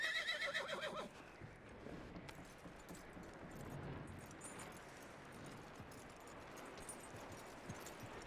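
A horse in the Red Dead Redemption 2 video game gives a short whinny at the start, followed by quieter hoof and harness sounds, with soft rustling and background ambience throughout.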